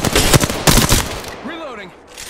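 Bursts of video game gunfire crackle in the first second, followed by rising and falling synthetic whistles, with voices talking over the action.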